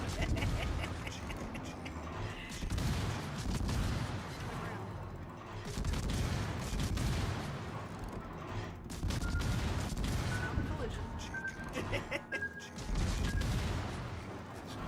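Naval battle in a ship combat game, with ship guns firing shells in heavy booming salvos that rise and fall across the stretch amid constant battle noise and occasional voices.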